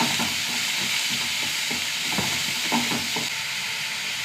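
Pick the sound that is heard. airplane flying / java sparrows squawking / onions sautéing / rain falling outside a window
onions sautéing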